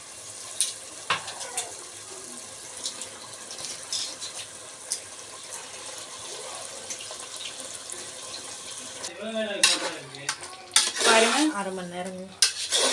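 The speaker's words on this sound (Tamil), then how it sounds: "நல்லா கிளறி விட்டுறலாம். கொஞ்சம் நல்லா எண்ணெயிலே கொஞ்சம் வதங்கி வரட்டும் மசாலாவில் சிக்கனு." Chicken frying in masala and oil is stirred in a pan, with scraping and clattering that grow louder toward the end, over a low sizzle and running-water sounds, while someone talks.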